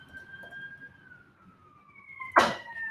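A wailing siren with a slowly falling tone sounds at moderate distance, then a sharp, loud burst of noise cuts in near the end.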